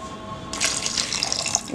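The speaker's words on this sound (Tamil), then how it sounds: "இப்போ நம்ம வந்து இந்த சக்கையில் வந்து இன்னொரு 1/4 லிட்டர் தண்ணி ஊற்றிடலாம்." Water poured from a vessel over crushed grape pulp while making homemade grape juice, a steady close splashing pour that begins partway in and runs to the end, with no talk.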